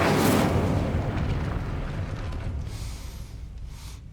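The Incendio fire spell cast in Hogwarts Legacy, a sudden close whoosh and rumbling burst of flame that fades over a few seconds into a low roar, with no talk.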